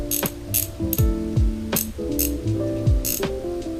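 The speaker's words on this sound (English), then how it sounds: "Here's the braking system of what that sounds like." Rapid ratcheting clicks from the braking system of a Lew's KVD LFS casting reel, close and steady, with sharp mechanical bursts and whirring pitch sweeps and no voices.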